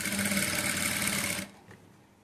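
A sewing machine runs fast while stitching thread piping onto a net-cloth blouse, a steady close whirring hum that stops abruptly after about a second and a half, leaving quiet.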